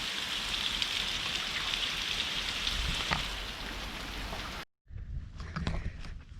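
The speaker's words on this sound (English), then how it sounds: "Oh yeah, good rain." Steady rain pours down on hard surfaces, a constant hiss. It cuts out briefly near the end, then returns as lighter patter.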